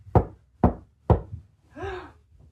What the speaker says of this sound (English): There is a knock